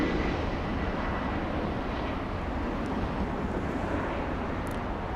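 A Southwest Airlines plane at Los Angeles International Airport produces a steady, even broadband roar with no distinct rises, heard alone at moderate level, like distant engine noise mixed with wind.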